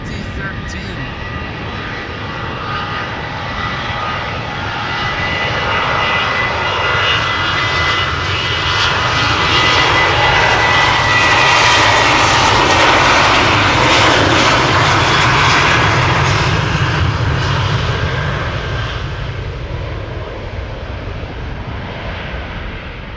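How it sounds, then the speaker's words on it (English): An eleven-year-old KLM Boeing 737-800 heading for Stockholm takes off at Amsterdam Schiphol, its jet roar swelling to a loud peak midway and then slowly fading, with no talk. "KLM flight 1219 to Stockholm first to take off. 737, 800, 11 years old."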